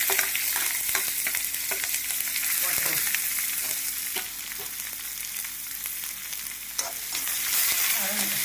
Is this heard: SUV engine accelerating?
no